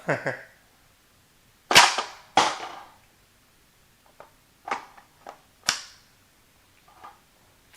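A rifle magazine kicked free and a snap cap loaded produce a series of sharp, close metallic clacks and snaps, spaced irregularly with quiet gaps, fairly soft overall.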